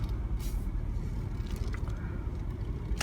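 A 2004 Mercedes-Benz CLK500 AMG with a V8 pulls away for a drive, a steady low rumble heard from inside the car with no talking.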